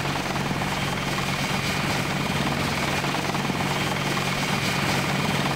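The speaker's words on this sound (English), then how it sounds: "No, that's an attack helicopter." Steady throbbing of attack helicopter rotors with a whining engine hum in the video game Deus Ex, loud and constant throughout, no voices.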